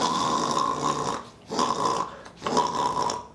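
A voice mimics a man snoring loudly in a theatre audience, three long rasping snores in a row with short gaps between them, close and alone without other talk.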